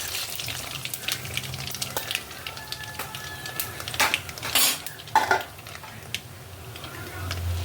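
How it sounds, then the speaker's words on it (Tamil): Asafoetida and chana dal fry in hot oil while cooking tamarind thokku, a soft sizzle under repeated clinks and scrapes of a metal spoon stirring the pan, with a few sharper knocks. "இந்த எண்ணெய் காஞ்சிட்டு இருக்கும்போது பெருங்காயம் கடலப்பருப்பு போட்டுக்கலாம்"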